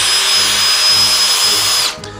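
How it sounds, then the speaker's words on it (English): A power drill on its slower setting spins a metal spoon to scoop out a pumpkin, a steady loud whine running close and continuous before cutting off near the end. "You can grab your spoon, insert said spoon into the end of your drill, and put the drill on the slower setting."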